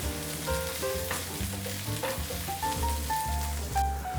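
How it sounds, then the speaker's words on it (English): Potatoes and onions sizzle and crackle steadily in a hot pan, a continuous close frying hiss with soft stirring and no talking. "while frying the potatoes, the onions also will get brown"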